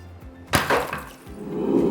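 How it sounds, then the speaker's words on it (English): A single sharp hammer strike cracks against an epoxy garage floor, knocking a brick-sized piece loose, followed by a brief crumbling clatter and low background rumble. "One tiny hit took that brick clean off."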